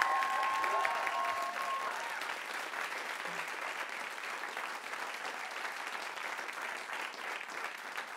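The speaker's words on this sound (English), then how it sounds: "A round of applause." Audience applause fills the room after a live band performance, a steady, dense clapping that holds at an even level throughout without fading.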